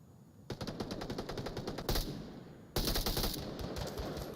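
Rapid automatic gunfire rings out in the virtual reality shooter Onward, two sustained bursts of evenly spaced shots with a short pause between them, fairly close and alone without talk.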